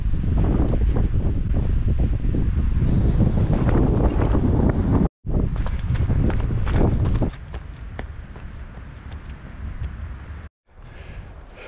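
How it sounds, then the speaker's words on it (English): Strong wind buffets the microphone outdoors on Blacktail Butte during a blustery August storm window, a loud continuous roar with gusting rumble that eases slightly in the final seconds, with scattered footstep-like knocks. "Wow, it's windy out here."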